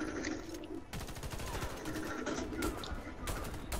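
Gunfire in the video game Warface, WWI 1914 setting: rapid bursts of cracking shots layered into a sustained fusillade, fairly quiet overall with repeated sharp transients.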